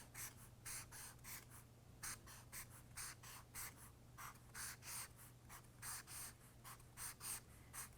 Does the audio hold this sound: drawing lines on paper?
yes